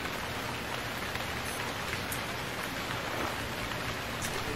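Steady rain pours in the survival game Stranded Deep, a dense, even hiss of drops hitting surfaces that holds constant throughout with no talking.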